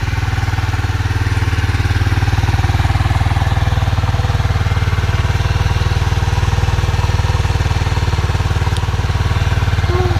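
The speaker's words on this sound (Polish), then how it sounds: "Wydech słychać, no przecież nie powiecie, że nie słychać, ale teraz jest zimny silnik, więc wiadomo, że będzie troszkę bardziej drgotał." A motorcycle with a cold engine idles steadily and loudly, its exhaust giving a continuous low, slightly uneven rumble throughout.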